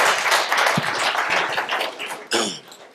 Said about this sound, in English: So give Wilson a round of applause.